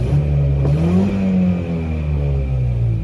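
An 80-horsepower Suzuki engine in a Geo Tracker revs up, a loud, close, steady engine drone whose pitch rises then levels off and holds, with no talk over it.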